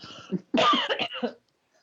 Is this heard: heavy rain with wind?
no